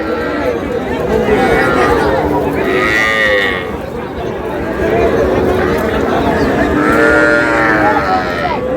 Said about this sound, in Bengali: ছোট ছোট বাচ্চা, বকনা, সব বকনা বাচ্চা।